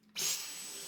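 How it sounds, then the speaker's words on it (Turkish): A Dyson V10 cordless stick vacuum, under inspection for a recurring fault, switches on with a sharp rise into a high, steady whine and airflow hiss, close and continuous. "Şimdi süpürgemizi çalıştırıyoruz."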